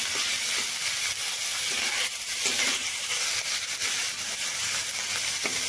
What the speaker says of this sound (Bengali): পেঁয়াজগুলোকে আমি বেশ ভালোভাবে হালকা ব্রাউন করে ভেজে নেব।